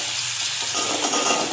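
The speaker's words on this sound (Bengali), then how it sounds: "আমটা একটু কষাচ্ছি, কষে গেছে" Mango pieces being stir-fried in a pan, a steady close sizzle with scraping of the spatula as the fruit is tossed, alone without talk.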